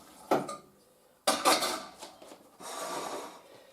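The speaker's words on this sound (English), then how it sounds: "I can put the tray in there for cleaning now." A baking tray is set down for cleaning, producing sharp metallic clanks of pans and cutlery in separate bursts, with a scraping rattle near the end, close by and without speech.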